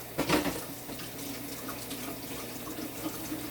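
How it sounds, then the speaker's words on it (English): Tap water runs steadily into a sink as someone washes their hands. The flow is a soft, continuous wash with a slightly louder splash near the start and no talking. "let me just wash my hands off"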